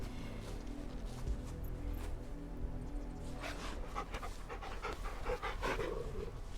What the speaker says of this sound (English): You can pet the dogs in this game.